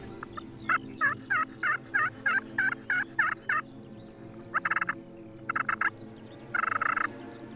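A wild turkey gobbles in the field during a hunt, giving several rapid rattling bursts at medium distance, separated by short pauses, over a low background hum.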